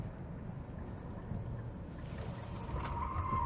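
Tires of a front-wheel-drive Nissan Ariya squeal while cornering hard, a continuous screech over steady road and motor rumble that grows louder toward the end.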